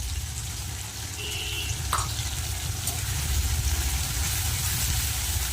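Onion and tomato frying in a pan, with a continuous steady sizzle under a low rumbling hum and one brief clink, no voices.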